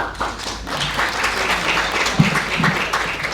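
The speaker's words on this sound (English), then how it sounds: "let's give Brandi a round of applause" Applause from an audience at a California home insurance talk, a steady mid-sized patter of clapping that continues throughout at moderate volume.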